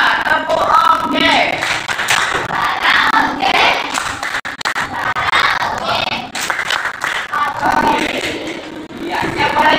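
A classroom of students in an Indonesian school lesson performs a rhythmic clapping chant together, with loud, steady group claps and many voices chanting in unison throughout.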